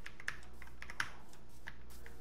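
Computer keyboard keys clicking during a Minecraft session, a few sharp separate taps with pauses between them, alone over a low steady background hum.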